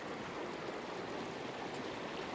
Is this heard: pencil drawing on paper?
no